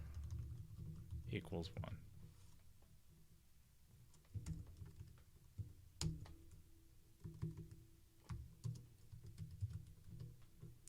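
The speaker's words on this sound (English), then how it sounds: "how I do that is I just type in border" Quiet clicking of a computer keyboard as HTML code is typed, short bursts of keystrokes spread across the stretch under a voice.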